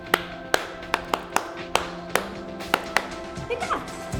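A few sharp hand claps ring out close by in an uneven rhythm, about eight to ten distinct claps, followed by faint murmuring at the end.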